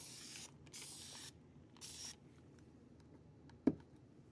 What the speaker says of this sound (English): I'm going to slide my tray over and spray.